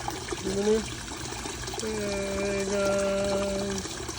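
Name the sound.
water pouring through polyester filter into aquaponic tank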